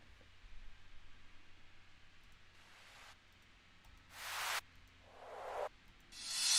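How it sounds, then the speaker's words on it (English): Short bursts of white noise one-shot sample dropped into a New Jersey club type beat, three or four hissy blasts of rising loudness separated by quiet gaps, with no talking. "What if I put white noise one shot?"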